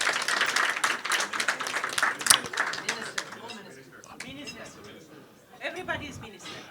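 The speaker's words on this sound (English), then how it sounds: "Let's give him a round of applause as well." Audience applause at a media breakfast on tuberculosis during the UN General Assembly, with brisk clapping strongest in the first few seconds before thinning into scattered claps as people start talking.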